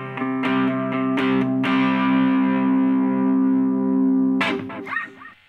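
Loud distorted electric guitar power chords, a few quick strums then a long sustained chord ringing out before a final muted scrape.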